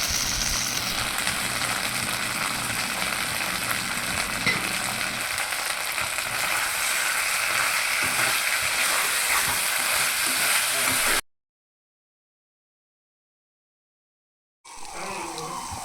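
Chicken sautéing with tomato ketchup in a pan for a rice pizza topping, a loud continuous sizzle and hiss with stirring scrapes, close by, then a sudden cut to silence before the sizzle resumes.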